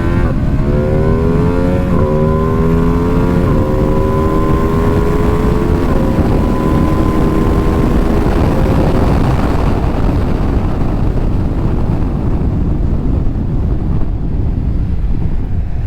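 A 2025 Ducati Panigale V2S motorcycle accelerates hard through several rising gear pulls, each shift dropping the pitch before it climbs again, then the engine note fades into heavy rushing wind noise.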